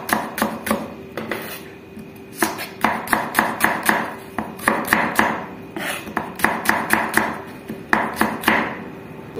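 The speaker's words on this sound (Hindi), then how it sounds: "प्याज को भी इस तरह से काटेंगे" Onion sliced with a knife on a cutting board, a steady run of sharp, close chopping taps in quick bursts with short pauses between groups.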